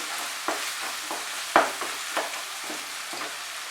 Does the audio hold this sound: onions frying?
yes